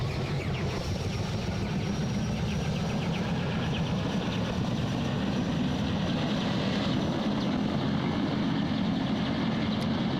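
Steady engine roar of an aircraft taking off in a video game, running unbroken and fairly loud for the whole stretch with a low propeller-like drone and no voices.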